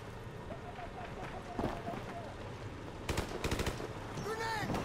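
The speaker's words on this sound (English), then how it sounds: "they keep shooting at someone" Gunfire in the Call of Duty Modern Warfare Remastered mission War Pig: scattered distant shots and a burst of rapid automatic fire amid battlefield ambience, with radio chatter and voices over it.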